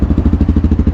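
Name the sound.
TEKKEN 250 EFI motorcycle engine running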